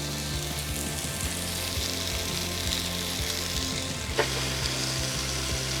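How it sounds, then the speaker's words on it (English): Two thick slices of bologna sizzle in a hot pan, a dense, steady crackling fry close up with a faint scrape or stir partway through and no talking. "we're going to throw our 2 thick slices of bologna on here"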